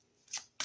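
Two quick, crisp riffles of stiff tarot cards being shuffled, close by, with a short pause between them.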